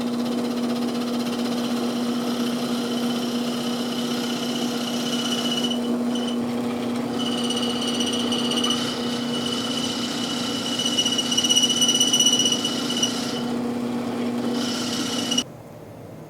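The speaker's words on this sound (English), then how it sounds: "I'm going to drill this hole about 1 1/4 inches" A drill bores a hole about 1 1/4 inches deep into an antler bottle stopper, a steady motor drone with a constant hum and shifting grinding tones before it cuts off abruptly near the end.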